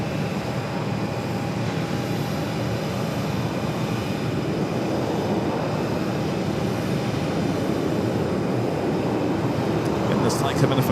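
An airliner arriving from Burbank into Phoenix Sky Harbor, a steady broadband engine roar held at a constant level throughout, with no talk over it.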